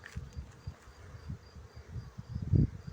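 Honeybees buzz around beehives fitted with second-storey boxes, a soft, wavering drone with uneven swells, one bee passing close and loud near the end.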